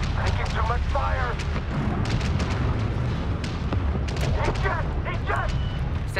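Rapid gunfire and heavy booming explosions pound against warship hulls in the space strategy game Homeworld 3, a dense continuous barrage with sharp bursts, overlaid by radio-style voices issuing alerts.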